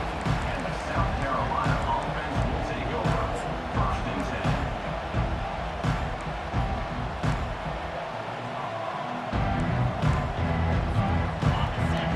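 Dense stadium crowd roar in the video game EA Sports College Football 25, constant and loud, with scattered shouts and a brief dip before the noise swells again.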